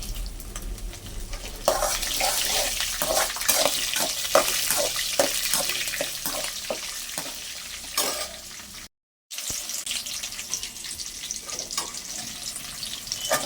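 Green chilies, dried red chilies and chana dal fry in oil in a pan, a soft crackling sizzle punctuated by the scraping clicks of a stirring spoon, fairly quiet and close, with a brief dropout midway.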